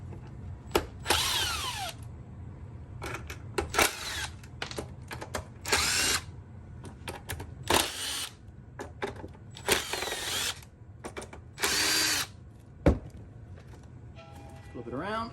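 Power drill loosening the six screws on a Onewheel electric skateboard, several short bursts of whirring with pauses between them, close and fairly loud, with a voice talking over and between the bursts.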